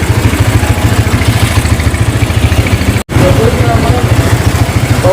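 Restored Honda GL Max motorcycle engine running at a steady idle with a loud, even low throb and faint mechanical clatter, broken by one brief silent cut midway.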